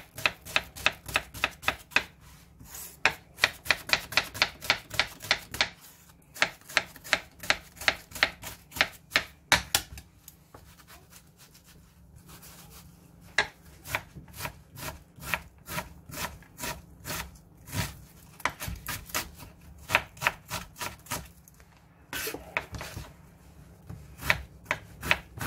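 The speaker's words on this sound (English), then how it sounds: "what I'm going to do now is I'm just going to finely chop my onions," A knife finely chopping onions on a cutting board, quick steady runs of close, crisp taps with short pauses between bursts, no voices.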